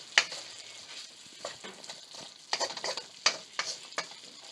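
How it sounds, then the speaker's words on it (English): Chicken and peppers for sweet and sour chicken stirred in a frying pan, soft sizzling broken by several scraping, clattering strokes of the utensil, fairly close and moderately quiet. "we're going to go ahead and stir this up"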